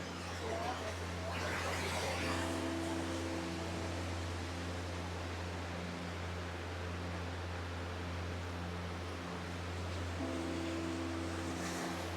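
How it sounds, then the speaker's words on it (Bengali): River water rushes continuously through the Aareschlucht gorge in Switzerland, a steady broad roar that never lets up, with a faint low hum beneath it. "পানির শব্দটা বা পানির মিউজিকটা খুব সুন্দর মনোমুগ্ধকর আসলে"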